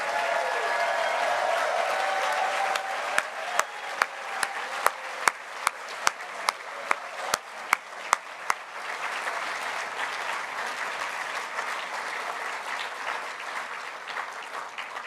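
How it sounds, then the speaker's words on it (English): An audience at an electric-vehicle competition awards ceremony gives the faculty a long round of applause, with dense clapping and a few sharp, close claps standing out over the crowd before it slowly thins. "please stand and to give them a round of applause"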